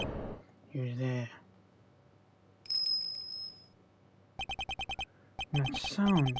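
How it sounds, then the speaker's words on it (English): A bell rings during a scene in the courtroom-style mystery game Ace Attorney Investigations 2, a brief sustained chime heard between bursts of talk and a fast run of clicking text blips. "That sound, is that a bell?"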